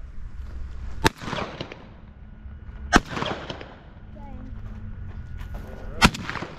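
Three loud gunshots ring out at evenly spaced intervals while hunting white-winged dove in Mexico, each a sharp crack with a short echo, separated by quieter outdoor background with faint bird calls.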